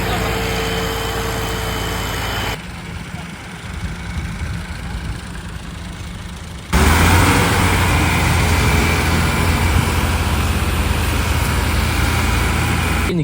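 A tractor engine runs at night after pulling a stuck trolley loaded with maize free, a loud continuous low rumble that drops back briefly and then surges louder again.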